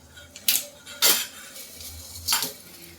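A metal cooking pot set down on a gas stove to heat before ghee goes in for sesame laddoos, giving three sharp metallic clanks about a second apart over a quiet background.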